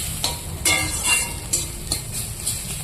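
Grated radish bhaji fries in a pan with a soft, steady sizzle, broken by several sharp scrapes and stirs of a spatula close by.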